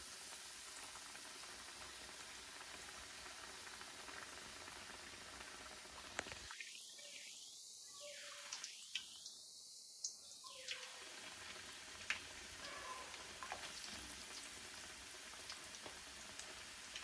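Chilli bajji fritters frying in hot oil give a steady crackling sizzle throughout, briefly dipping when batter-dipped chillies drop in before the bubbling returns.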